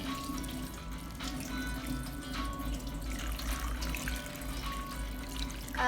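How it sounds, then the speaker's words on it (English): Tap water runs steadily into a sink while hands are wetted for a lab hand wash, a continuous close splashing hiss with light trickling. "wet hands with the water"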